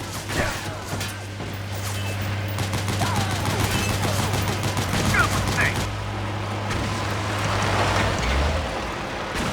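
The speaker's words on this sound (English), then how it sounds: "Use the machine gun." Machine gun fire in the Metal Gear Solid 4 video game, a dense stream of rapid bursts and rattling shots running for several seconds over a steady low hum and game ambience.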